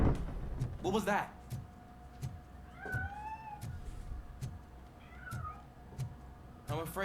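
A cat meows several times in the RoboCop: Rogue City video game, rising and falling calls spread through the clip over a low ambient game soundtrack, with a brief voice or effect near the start and end.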